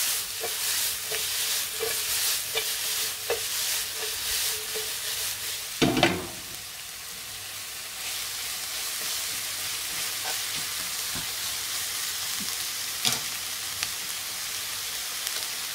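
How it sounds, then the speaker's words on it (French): Onions coated with a spoonful of sugar cook down in a pan with a steady close sizzle, punctuated by soft taps and one louder scrape of a utensil midway. "mes oignons sont en train de compoter"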